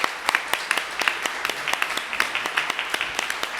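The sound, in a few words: round of applause at city council meeting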